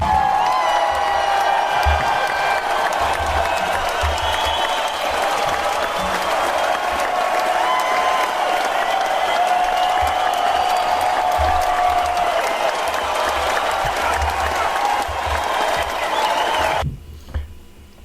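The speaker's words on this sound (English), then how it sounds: "Let's give him a round of applause." Audience applause and cheering for a special guest on a live podcast, a steady dense wash of clapping with scattered whoops lasting about seventeen seconds before it cuts off abruptly.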